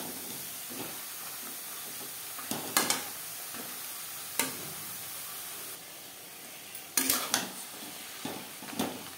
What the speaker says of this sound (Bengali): টমেটোর সাথে শিম বেশ ভালো করে মিক্স করে দেব।